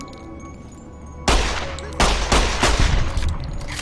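Rapid bursts of automatic gunfire in the video game Fallout New Vegas, starting abruptly after a quieter stretch and continuing in loud, overlapping volleys with brief gaps, up close.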